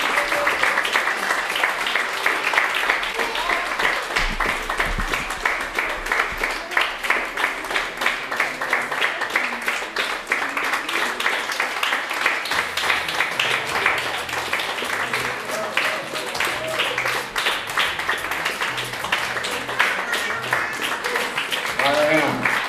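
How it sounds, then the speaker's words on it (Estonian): Audience applause at a Figuurisõbrad event, sustained and dense clapping filling the room continuously for the whole stretch, with a voice briefly heard beneath it. "Seelikud teevad suurema aplausi."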